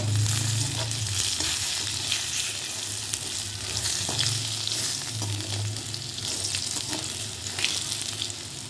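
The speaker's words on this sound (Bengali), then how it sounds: "এর মধ্যে দিয়ে দিচ্ছি সামান্য পরিমাণ নুন, আর দিয়ে দিচ্ছি হলুদ গুঁড়ো, দিয়ে ভালো করে ভেজে নিচ্ছি" Spices frying in a pan after salt and turmeric powder go in, a continuous close sizzle with occasional stirring scrapes and no talk.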